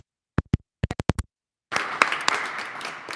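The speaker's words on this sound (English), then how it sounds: "Another round of applause." Applause from a community audience at a county government and university child care study release, beginning abruptly after a few isolated claps and continuing as a steady, moderately loud wash of many hands.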